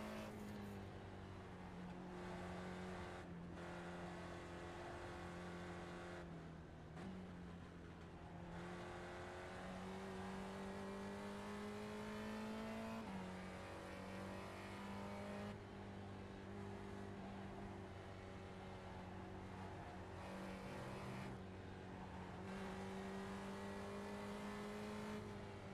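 Race car engine in a racing video game, a steady, droning roar held mostly in third gear with shifts and pitch swells, continuous over the whole stretch with occasional dips.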